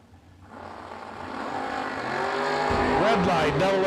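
Chevy Malibu and Chevy Camaro launching in a drag race at an event, engines rising from a low rumble to a strong, loud roar with rising pitch, a brief screech near the end.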